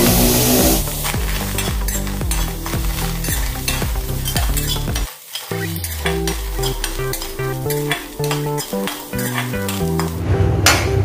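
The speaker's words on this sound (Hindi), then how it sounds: "इसमें हम पहले कांदा भूजेंगे, तेल नहीं डालेंगे, ऐसे ही हम इसको भून लेंगे" Chopped onion is dry-roasted in a pan without oil for a toor dal and cabbage dish. Constant loud scraping and stirring with a spatula, over a gritty sizzle, continue with only a brief lull midway and a tonal musical background underneath.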